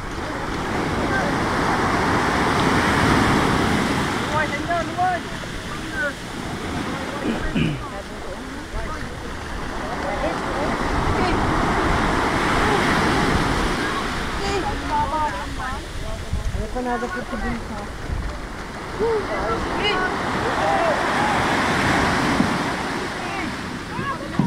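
Ocean waves roll and crash in slow repeated surges with steady wind rumble, loud and continuous throughout.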